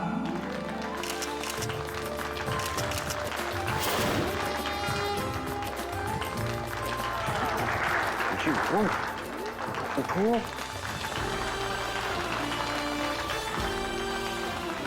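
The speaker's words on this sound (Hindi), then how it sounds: "तो चलिए जोरदार तालियों के बीच स्वागत करते हैं" Applause from a studio audience welcoming a guest onto the stage of a Hindi television drama, steady clapping running through the whole stretch with music and voices mixed in.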